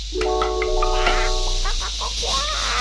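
A cartoon hen inside a chicken house gives a stretched, wavering cluck-like call over a steady background hum, with a few short bird sounds trailing after.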